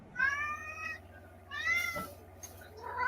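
A house cat meows twice up close, drawn-out tonal calls with a pause between, followed by a fainter rising mew; a low steady hum sits underneath.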